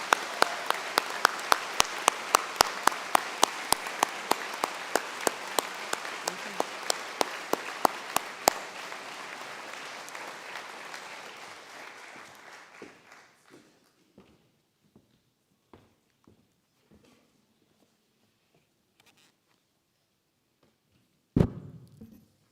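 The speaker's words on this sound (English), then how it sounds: "So let's give all these wonderful folk a round of resounding applause." Audience at a commencement ceremony applauds, a strong, fairly rhythmic roll of clapping that gradually thins and fades over about twelve seconds into scattered single claps, then near silence broken by one sharp knock.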